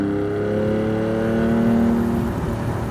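With the top down, a 2020 BMW M4 Cabriolet Competition gives a steady, loud engine and exhaust drone as it drives, swelling slightly toward the middle before easing off.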